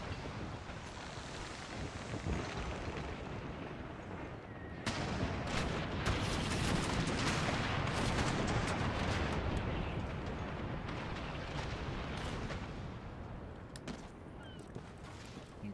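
Cannon and musket fire thunder through an Empire: Total War battle, a dense, continuous roar of artillery and volleys that swells louder midway and stays heavy throughout, with no talking.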